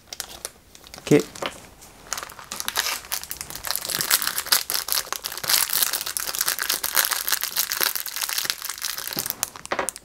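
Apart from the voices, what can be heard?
small plastic parts bag being opened and crinkled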